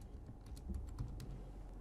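Fingers type a short name on a computer keyboard, a quiet run of soft irregular key clicks, close and alone with no talking.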